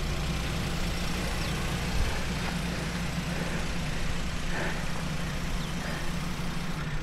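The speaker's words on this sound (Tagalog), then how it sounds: "So yan, painitin mo natin yung makina ni Sam" A car engine idles steadily while warming up before an hour-long drive to a hot spring, a constant low rumble running alone throughout.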